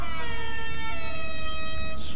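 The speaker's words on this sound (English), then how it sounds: "we could put air horns on this thing?" An add-on truck air horn on a vehicle in the video game GTA Online blares as a continuous loud, brassy multi-tone blast that holds steady throughout, close up with no talking over it.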